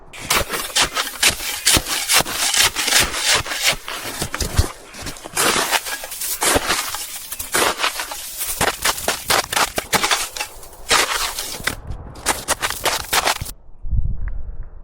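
Snow being scooped and scraped out of a fire pit at a winter campsite in Canada: loud, close, repeated rough scraping strokes in an uneven rhythm, ending in a brief quieter pause.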